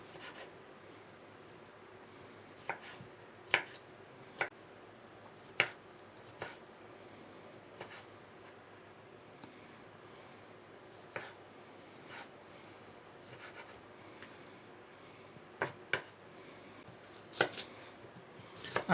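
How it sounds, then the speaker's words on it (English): Knife chopping tomatoes into small pieces on a board, heard as scattered sharp taps with irregular pauses, fairly quiet and close, no talking. "I'm going to chop up the tomatoes, fairly small pieces."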